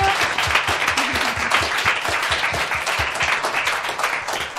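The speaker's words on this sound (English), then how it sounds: "can everyone please give a round of applause?" Audience applause closing a campus talk on corporate strategies for animal welfare, a dense, steady roar of many hands clapping at close range that holds evenly throughout, with no voices above it.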